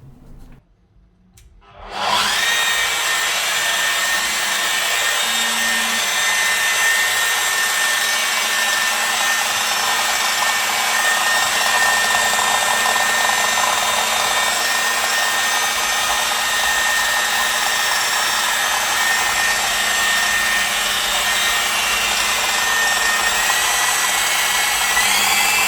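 A loud, steady whirring drone kicks in after a couple of seconds of quiet and runs unbroken: an Evolution electric drywall sander with a hose attached to a vacuum, sanding plaster skim.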